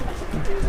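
A Madrasi (Coimbatore) pigeon gives a brief, low, throaty coo close by against a muffled background.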